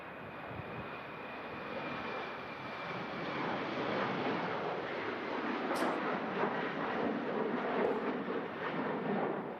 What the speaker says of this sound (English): Off goes the Austrian Embraer E195